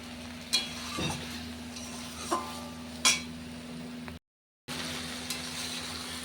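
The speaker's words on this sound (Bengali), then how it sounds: "এঁচড়টা কষানো হয়ে গেছে জল দিয়ে দেব" Jackfruit sizzles as it is sautéed in oil in a home kitchen pan, a steady hiss with a few louder stirring scrapes and clanks, alone with no talk.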